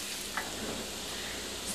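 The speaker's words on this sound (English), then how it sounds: "I'm going to add the 1/2 cup of the onions. And we're going to saute these for about 3 to 5 minutes until they get nicely wilted." Onions sauté in melted butter with a soft, even sizzle and one brief stirring clink, heard close and without speech in a very short stretch.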